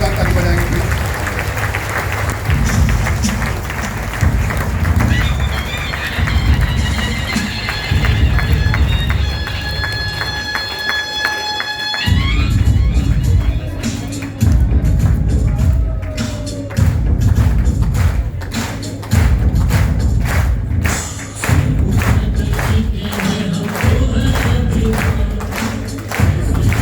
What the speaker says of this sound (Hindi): एक बार जोरदार ताली बजाएंगे प्लीज